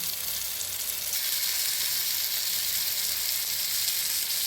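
Fish sizzles loudly and continuously in hot oil in a pan, a dense, even hiss that holds steady from start to finish with no voices.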